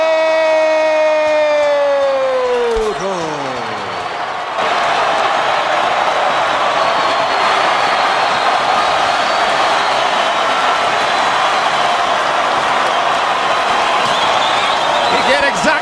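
Boxing arena crowd in a city with a large Puerto Rican population roars steadily for Miguel Cotto after a welterweight title bout, loud continuous cheering that follows a falling tonal sound.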